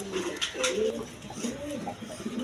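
High-flying giribaz pigeons coo in low, rolling bursts close by, several calls overlapping across a couple of seconds amid a busy background.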